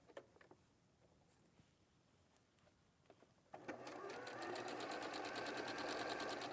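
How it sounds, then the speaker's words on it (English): A sewing machine runs fast and steady along the length of a seam, starting partway through after a few quiet clicks and taps, then whirring continuously and close up to the end. "And then just whiz down the length of that seam."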